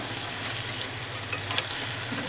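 Chicken sautéed into kosha with a splash of water, giving a steady, moderate sizzle that runs throughout with a few brief clinks of stirring near the end, no voices.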